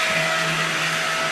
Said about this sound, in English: Go up first on the turbo car there